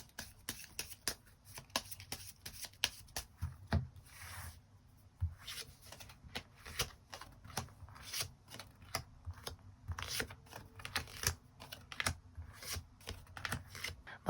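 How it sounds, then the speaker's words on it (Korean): Tarot cards shuffled and drawn by hand, a dense run of soft riffling flicks and papery slides, close and fairly quiet, with no talking. "추가 카드로 일별로 월요일부터 일요일까지 어떤 하루를 보내게 될지 추가 카드 뽑아보도록 하겠습니다"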